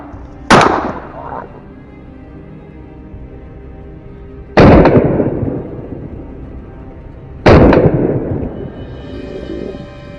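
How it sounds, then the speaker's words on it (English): Three loud, sharp gunshots fired at a wild boar crack out alone, evenly spaced a few seconds apart, each followed by a short rolling echo in an open outdoor setting. "A clean, sharp shot rang out."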